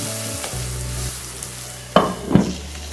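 Bhindi masala of okra frying in oil, a steady sizzle with the crackle of stirring, and a couple of sharper scrapes of the spoon against the pan near the end.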